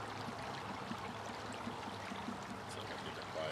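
A gently flowing stream runs steadily beside a handpan player outdoors, a soft continuous trickle and burble heard at low level with no talking.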